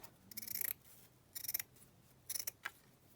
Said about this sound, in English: So we're just going to cut it across here.